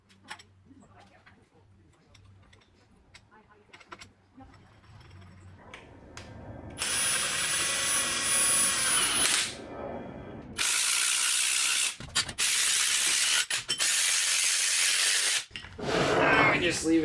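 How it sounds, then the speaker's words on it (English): Rapid ratcheting from a spring compressor being wound down on the front strut of a BMW 328i, close and loud in long stretches with short pauses, after quieter clicks and handling noises. "We're gonna take this off. We're gonna use spring compressor."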